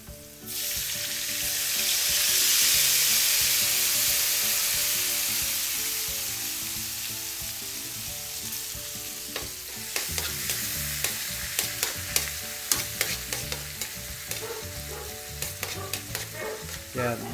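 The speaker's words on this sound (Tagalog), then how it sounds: "Gisa lang natin. Lagay tayo ng toyo." Fish sizzles loudly in a hot pan after soy sauce is added. A sharp hiss rises and then fades a little, and stirring scrapes and clicks join in the second half, with no talk.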